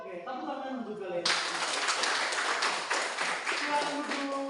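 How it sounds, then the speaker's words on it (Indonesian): Students in an Indonesian classroom burst into applause that starts abruptly and carries on steadily, with a teacher's voice heard beforehand and talk continuing under the clapping. "Oke, tepuk tangan untuk kalian."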